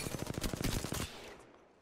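Rapid burst of laser gunshots in a shooting video game, about ten sharp repeated blasts in quick succession over roughly a second, loud and close, then fading into a dull tail with no voices.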